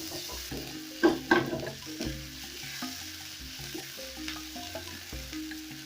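Onions frying in a pan for an omena dish give a steady, close hiss, broken by a few louder scrapes and knocks of stirring early on, with no talking.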